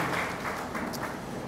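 A church congregation claps together during a sermon, a steady, dense patter of applause that stays at an even level throughout.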